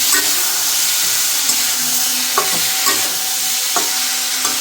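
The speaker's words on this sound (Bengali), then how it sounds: "আগে টকের তরকা রান্না করে জন্য টমেটো আর বেগুনটা দিয়ে সব কিছু মিশানো মিশানো করছি" A tomato and eggplant sour curry sizzles and fries steadily in a pan, with scraping stirring strokes at irregular intervals over a constant hiss of steam, close up and with no talking.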